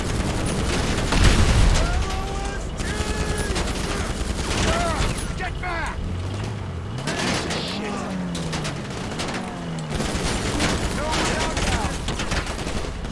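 Rapid gunfire from a GTA 5 Online drug-wars mission rattles in dense, continuous bursts of automatic shots. Vehicle engine noise and rising and falling tones run underneath, and the shooting stays loud and close throughout.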